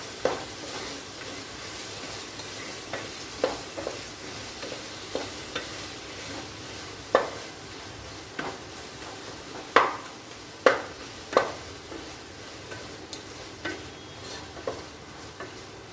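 Mint, coriander and curry leaves sautéing in a pan for egg biryani, a low steady sizzle under irregular spoon stirs and sharp scrapes against the pan, several louder clacks clustered toward the middle.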